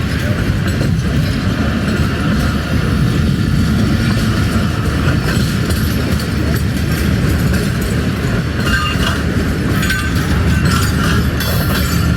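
AG30 express train running through Landhi railway station in Karachi, a loud continuous roar of wheels and rattling carriages passing close by, steady throughout with no talk.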